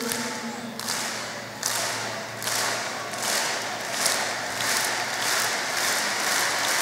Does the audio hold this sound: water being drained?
no